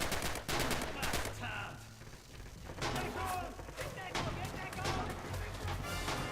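Dense gunfire from rifles and machine guns in a Red Orchestra 2 Stalingrad battle, with rapid overlapping shots and bursts throughout and steady battlefield noise underneath.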